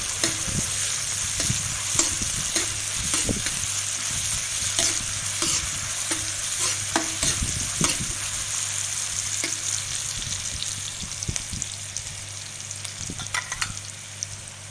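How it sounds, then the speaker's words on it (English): Garlic and onions fry in coconut oil for a pumpkin and tofu stir-fry, giving a steady close sizzle with repeated clicks and scrapes of stirring throughout. "Start with a bit of coconut oil. We add the garlic and onions."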